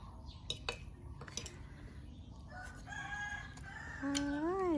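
Light clinks of dishes and cutlery, then a rooster crows loudly near the end, its rising call close by.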